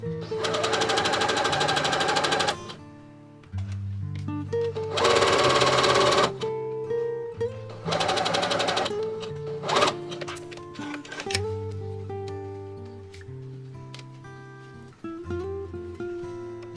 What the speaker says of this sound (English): Sew with an 8mm seam allowance